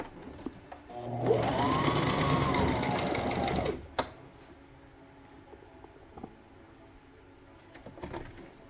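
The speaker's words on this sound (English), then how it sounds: "I'm going to sew on top of it" A sewing machine stitches the side seam of a two-tone flared skirt in a steady, close burst lasting a few seconds, followed by quiet handling sounds and faint clicks.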